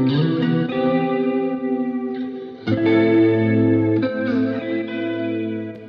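Chords on an electric guitar pass through an Ableton Max for Live Color device, sounding dense and harsh with heavy modulation, distortion and echo smeared across each sustained strum, loud and alone.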